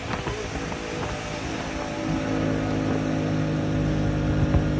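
A boat engine on a cheap revived boat running at full throttle: a steady droning motor roar with wind noise that swells louder in the second half, close to the microphone, with no speech.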